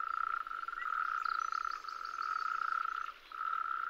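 A tree frog calls in a steady, continuous trill that holds almost unbroken for about three seconds, pauses briefly, then resumes; it is close and loud with no other sounds around it.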